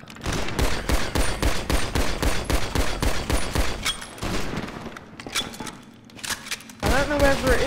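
Rapid bursts of loud gunfire in GTA V crack out in a dense, repeated volley, then a short pause and a few scattered shots before another heavy burst.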